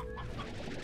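A brief, close burst of chicken clucking in Slime Rancher, short and busy, heard alone without talk.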